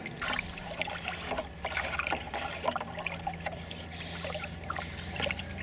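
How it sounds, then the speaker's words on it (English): Liquid sloshes and trickles as a bacterial inoculant is stirred in a 2 gallon watering can, a close, irregular swirling of water with small splashes and drips throughout. "All right, stir, stir, stir."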